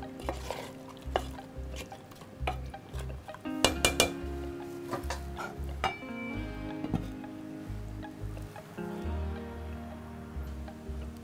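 Beef being stirred in a cooking pot with ghee, a metal spoon scraping and clinking against the pot in uneven strokes over a faint sizzle, close and fairly quiet.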